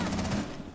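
Zofia's light machine gun in Rainbow Six Siege fires a brief, rapid burst, loud and close.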